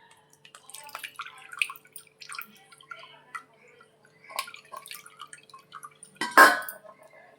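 Jamun fruit juice strained in a home kitchen: scattered small drips and splashes of liquid, faint and irregular, ending in a short louder burst of pouring.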